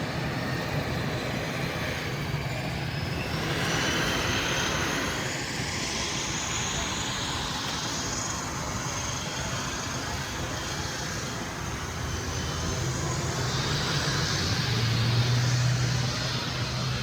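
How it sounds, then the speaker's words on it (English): Propeller plane engine droning steadily throughout on a domestic flight in Laos, a continuous loud cabin roar with a low hum and broad noise, no talk. "That propeller plane."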